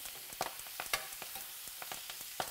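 Venison backstrap sears in a hot skillet, giving a steady frying hiss broken by irregular crackles and pops, close and moderately loud.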